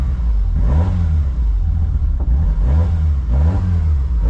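A car engine warming up at a sprint trackday rumbles loudly nearby, its pitch rising and falling in repeated revs every second or so over a steady idle.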